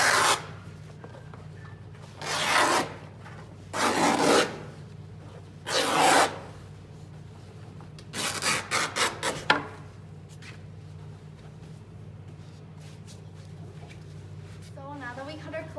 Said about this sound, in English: a trick is just snip the edge of the canvas and then you can just rip the cloth